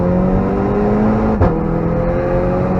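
A car at full throttle on the Nurburgring, its engine loud and close with a steady rising tone, a short blip as it shifts gear, then the note climbs again.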